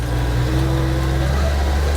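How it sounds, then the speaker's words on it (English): A car goes by on a road close at hand, a loud, steady engine rumble with a deep low drone lasting the whole two seconds. "Wait for this car to go by."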